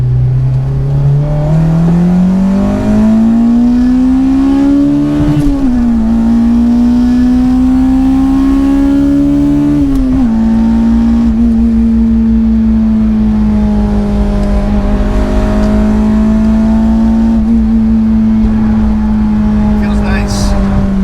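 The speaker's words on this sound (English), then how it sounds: "I'll downshift. I'll rev match, but it won't go in. And that's why you hear me do it again." Acura RSX engine with a steady loud drone inside the cabin, pitch rising at the start and dipping at about 5 and 10 seconds as revs shift between gears, under constant talk.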